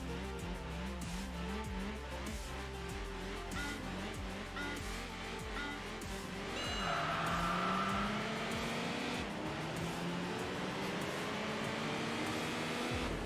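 Audi and BMW race cars accelerate in Enthusia Professional Racing, with engines rising in pitch through gear changes over continuous engine drone and some tire noise, closer and louder in the second half.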